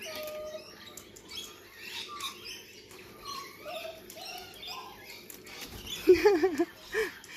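Corellas, a flock of Australian cockatoos, give faint scattered calls in the background, then a few louder harsh chirps near the end over a steady outdoor murmur.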